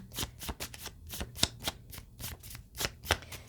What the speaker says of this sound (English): These are kind of hard to shuffle, but let me see if I can get one at a time.